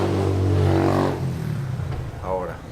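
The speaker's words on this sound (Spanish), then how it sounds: "el ruido de la moto es muy fuerte" A motorcycle engine drones loudly while riding along a rural road, a steady low rumble with shifting pitch, and voices talk over it.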